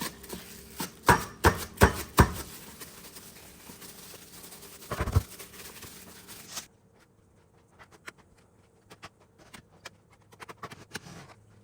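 A knife chops poured dough into strips on a board. A quick burst of firm chops is followed by a few spaced cuts, then quieter taps and light handling, close and alone.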